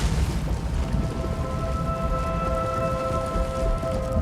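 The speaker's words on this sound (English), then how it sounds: "Lightning storms rake across the blasted surface of this region." Lightning storm in the Sever, a blasted rocky region in Elder Scrolls Online, with steady rain pattering on surfaces and low distant thunder rumbling beneath, while faint sustained tones linger in the background.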